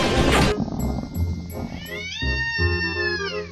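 A cat screeching loudly after a fight with a black cat that chased it, drawn-out wavering yowls close up over a noisy background, ending in a rising, wailing cry.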